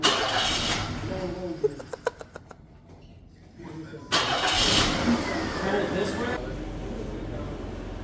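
A Nissan Gloria Y32 sedan's engine cranks and catches, then settles into a rough idle amid outdoor background noise, with people talking nearby.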